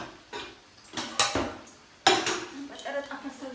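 Small pan lids and dishes clatter and clink in a home kitchen, a few sharp knocks and rattles in close succession with light handling noise between them.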